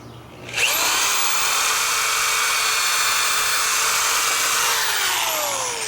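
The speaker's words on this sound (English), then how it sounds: "We're going to pre-drill a hole to go from this top timber into the bottom timber." A power drill pre-drilling a hole through one timber into another spins up sharply and runs at a steady high whine for about five seconds, close and loud, then begins to wind down.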